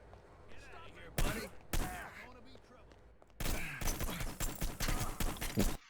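Gunfire in Hitman: Blood Money, two sharp shots a moment apart followed by a dense, loud volley of rapid shots near the end, over quieter background game sounds.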